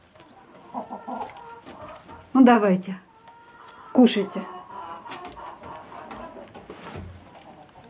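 Laying hens peck at sprouted wheat in a winter coop, clucking in short bursts with a couple of louder squawks close by, while someone speaks softly to them.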